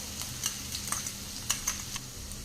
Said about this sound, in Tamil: ஒரு பெரிய வெங்காயம் கட் பண்ணி வச்சுருக்கேன் சேர்த்திக்கலாம்